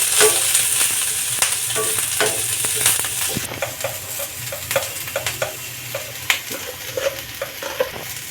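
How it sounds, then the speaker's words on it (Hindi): Carrot and capsicum are stir-fried for street-style veg fried rice, with loud continuous sizzling under repeated sharp clacks of a ladle against the pan. "थोड़ा सा गाजर, थोड़ा सा शिमला मिर्च, इसको चला लेंगे। चला के थोड़ा फ्राई कर लेंगे।"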